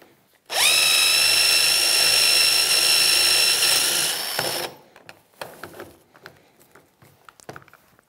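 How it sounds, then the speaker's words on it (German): A power drill with a Forstner bit bores through wood from the reverse side, giving a loud steady whine for about four seconds that cuts off sharply, followed by scattered clicks and small handling knocks. "bohren wir jetzt von der anderen Seite"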